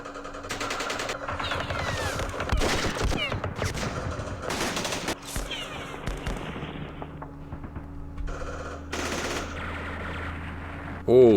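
Gunfire from the Vietnam war game Campaign Series Vietnam, in a Dien Bien Phu scenario: dense bursts of machine-gun and rifle fire crackle across the whole stretch, with louder volleys now and then.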